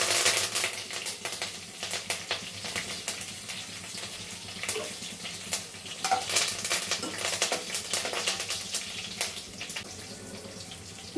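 Crushed garlic, pepper and curry leaves crackle in hot oil in a pan, a dense close sputtering sizzle with rapid popping and occasional stirring clinks throughout.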